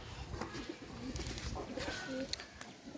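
Soft pigeon coos from fancy and Pakistani breeds on a rooftop farm come in short low phrases over a busy outdoor background, with a few faint chirps mixed in.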